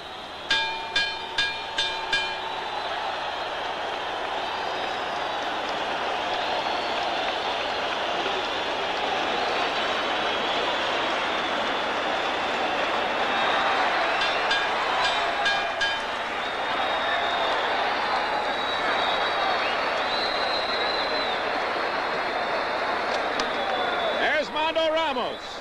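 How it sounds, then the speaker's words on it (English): Boxing crowd cheering at the final bell of a 1967 bout between So Kang Il and Mando Ramos, a broad sustained roar of a large arena audience, with a few sharp bell strikes early and a commentator talking over it. "Now listen to the cheer now at the final bell"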